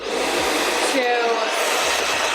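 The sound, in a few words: blow dryer running on the cool setting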